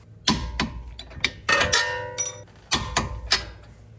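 A torque wrench tightens a 14mm camber bolt on a Subaru to 100 foot-pounds, giving a series of sharp, close ratcheting clicks and knocks in uneven bursts.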